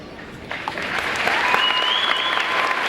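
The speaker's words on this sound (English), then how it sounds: "I ask you to join me in applause for these teachers." Audience at a 2008 high school graduation ceremony applauding the teachers, a dense, steady wash of clapping that swells after a soft start and holds loud throughout, with a faint voice or whistle-like tone riding on top.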